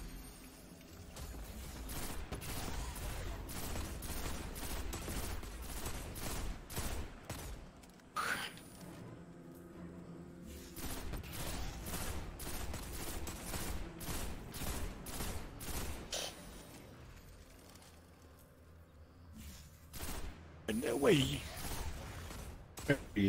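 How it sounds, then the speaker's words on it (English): Enemy gunfire in the video game Destiny during a Grandmaster Nightfall, The Arms Dealer, as rapid bursts of shots and sharp impacts crackle in repeated volleys over game sounds, with players talking at times. "They can shoot us, but I mean, we should be able to avoid their shots."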